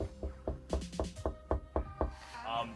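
Knuckles rap on a door about nine times in an even, quick rhythm, each knock loud and close.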